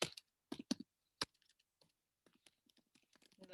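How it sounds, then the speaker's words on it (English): Computer keyboard keys clatter in quick, irregular clusters of clicks, close and quiet, with short silent gaps between bursts of typing. "Then let me type it out."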